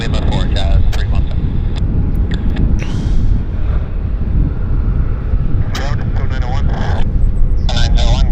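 United airliner approaching Vancouver Airport, a steady distant jet roar that persists throughout under radio chatter and wind noise, with people talking.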